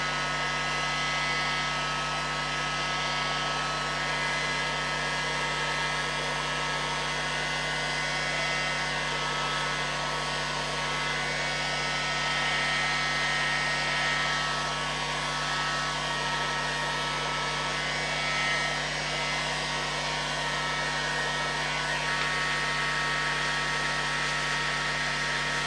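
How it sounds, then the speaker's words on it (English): A hot air gun blows steadily to dry stain on a hand-turned tiger stripe wooden dish, a loud, unbroken whooshing roar with a faint whine that holds for the whole stretch. "I'm just going to use a hot air gun just to dry the stain off"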